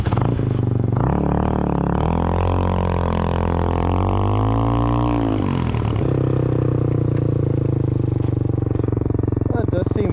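A GY6 scooter engine drones loudly up close on a test ride, its pitch climbing and falling as the throttle changes, with heavy wind and rumble throughout.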